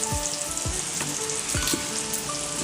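Small onion thokku sizzles and fries steadily in a pan while being stirred, with a continuous close crackle and a few soft scraping strokes throughout.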